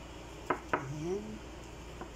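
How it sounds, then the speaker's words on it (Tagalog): Potatoes dropped into a cooking pot in a home kitchen, two quick knocks of food against metal followed by a soft scrape and a few faint clinks, close and fairly quiet, with faint voices in the background. "Ilagay ang patatas."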